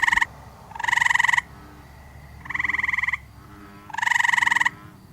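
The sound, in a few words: tree frogs calling in a pond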